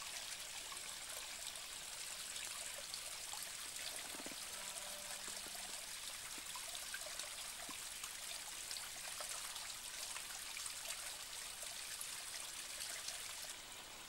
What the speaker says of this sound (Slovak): kde tá vodička si robí cestičku